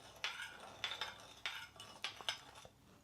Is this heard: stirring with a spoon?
yes